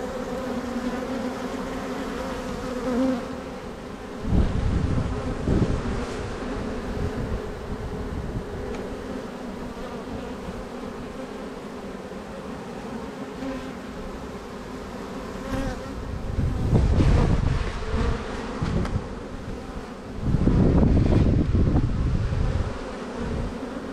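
Honeybees and larger drones from a recovered swarm at an apiary at the Château de Mons near Royan drone continuously close to the microphone, the buzz swelling louder as insects pass near, with some wind noise.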